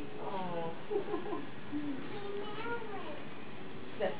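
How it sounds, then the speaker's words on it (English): A cat meows several times in soft, drawn-out cries amid background noise and occasional voices. "She's meowing."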